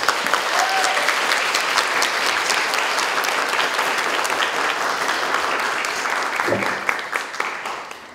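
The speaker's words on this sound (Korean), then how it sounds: "울프 소셜클럽 대표 김진아 작가님을 큰 박수로 맞이해주시기 바랍니다." A seminar audience applauds to welcome a speaker, Woolf Social Club head and writer Kim Jin-a, with sustained, loud crowd clapping that thins out toward the end.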